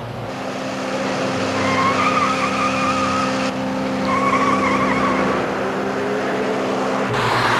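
A runaway car speeding at about 110 miles an hour roars past on a highway, a loud sustained engine and tire whine that swells and fades in waves with no talking.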